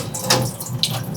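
Rinse water sloshes and pours out of a pot of white rice in a brief, close, continuous gush.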